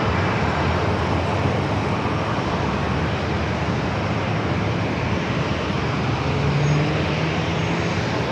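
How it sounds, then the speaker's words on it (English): A Lufthansa A350 airliner roars on takeoff at San Diego airport, a loud sustained broadband rumble of jet engines, steady throughout with no voices. "the Lufthansa A350, the flight heading back to Munich"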